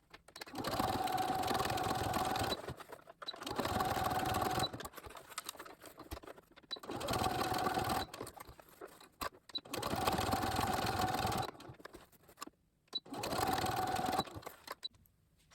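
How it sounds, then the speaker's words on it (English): A sewing machine stitches a fabric face mask with a plastic layer in five steady whirring runs of about two seconds each, separated by short pauses, close and loud with no talking. "your mask to the sewing machine, and we want to sew just close to the ends"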